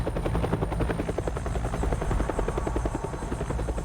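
A helicopter ferries fossil hunters across the icy continent, its rotor chop a loud, steady, rapid pulsing thud over a continuous engine whine that lasts throughout, with no voices.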